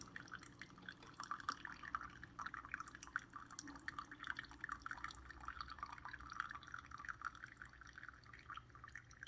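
Thin coffee dribbles and drips steadily from a Keurig K-Supreme Plus coffee maker into a cup, a soft continuous patter of small splashes.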